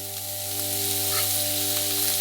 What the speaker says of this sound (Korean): 양파를 볶아주세요.